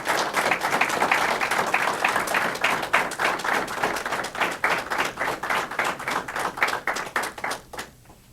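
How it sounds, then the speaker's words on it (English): Applause for a newly sworn-in police officer at a police department swearing-in ceremony: close, vigorous clapping with distinct individual claps that continues for several seconds, then thins into scattered claps before stopping. "Go ahead and give him a round of applause"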